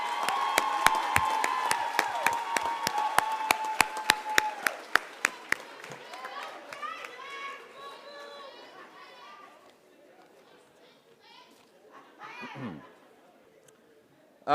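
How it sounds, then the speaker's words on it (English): A crowd at a graduation ceremony applauds award winners loudly and steadily at first, then the clapping thins out into scattered claps and murmuring chatter. "Let's give them one more round of applause"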